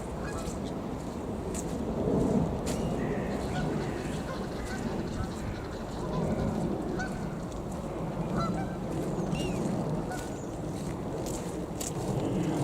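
Geese honk repeatedly outdoors near water with steady wind noise, loud harsh calls rising and falling throughout, some close and others further off.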